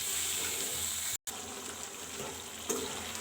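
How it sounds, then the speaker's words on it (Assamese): Pointed gourd (potol) frying gently in a pan over a low flame, a steady soft sizzle and crackle that holds evenly throughout with one brief dropout, no talking. "তাৰপিছত আমি এইখিনি লো ফ্লেমত এনেকৈ ভাজিম"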